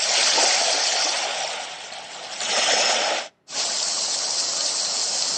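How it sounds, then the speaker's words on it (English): Thunderstorm setting on a small Temu sound machine playing at full volume: a steady, loud broadband rush like heavy rain, swelling and dipping, with a brief total dropout near the end before the rush resumes. "There's my thunderstorm."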